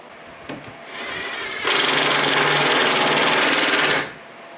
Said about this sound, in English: Using the adapter on an impact wrench will enable me to use the sockets from my socket set and drive in these lag bolts.